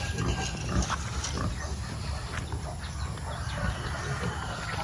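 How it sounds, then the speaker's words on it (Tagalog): Pigs grunting and squealing in a farm pen where chickens are also kept, a steady dense chorus of animal noise that continues throughout at moderate loudness. "Lulusog ng baboy dito."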